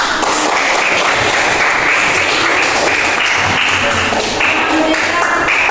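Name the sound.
classroom applause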